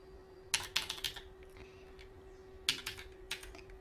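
Keys clack on a computer keyboard while an IRCTC train reservation form is filled in: a quick burst of several close keystrokes, a pause, then another short run of taps over a faint steady hum.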